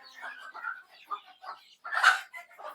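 Native egg-laying hens on a small Bangladeshi poultry farm cluck in short, close bursts, with a louder flurry near the end, while a person talks nearby.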